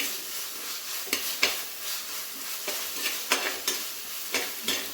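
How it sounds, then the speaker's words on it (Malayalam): Ginger garlic paste fries in a pan for Kerala-style beef curry while a spoon stirs it, giving a soft continuous sizzle broken by repeated scraping strokes at an irregular pace, close and moderately quiet. "ഇഞ്ചി വെളുത്തുള്ളി പേസ്റ്റാണ് നമ്മൾ ആദ്യം ഇട്ടത്. നല്ലപോലെ മിക്സ് ചെയ്യുക."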